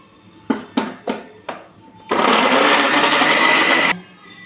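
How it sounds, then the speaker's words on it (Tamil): Mixer grinder coarsely grinding three tomatoes: four short, loud pulses of the motor, then one continuous whirring run of about two seconds that stops abruptly. "இந்த 3 தக்காளியையும் கொஞ்சம் கரகரான்னு அரைச்சி வச்சுக்கணும்."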